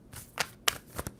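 Tarot cards shuffled by hand, a few quick riffling bursts spaced across a short moment, close and fairly soft with no talking.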